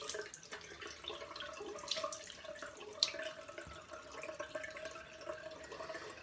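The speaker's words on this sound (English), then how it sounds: "I rub it in and then just wash it off." Tap water runs steadily into a sink while a face mask is rinsed off the skin, a continuous close splash with a few brief drips and louder spatters.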